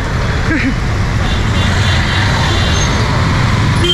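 Dense street traffic in Nepal, with cars, buses and trucks forming a loud, steady roar of engines and road noise that runs unbroken throughout, with a brief voice-like sound early on.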